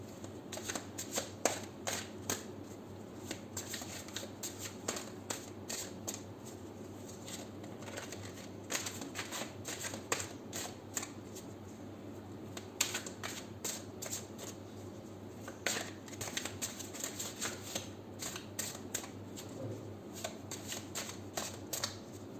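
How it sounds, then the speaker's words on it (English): A deck of tarot or oracle cards is shuffled over and over, close up, with crisp riffling bursts and soft patting coming in irregular rhythm under a faint steady hum. "So I shall shuffle this deck 7 times and then we'll pull out cards for you"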